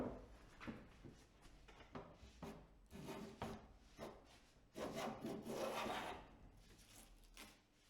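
An old Stanley No. 3 hand plane, freshly restored, shaves wood in a series of rough, irregular rasping strokes, close and fairly quiet, with a longer pass near the end.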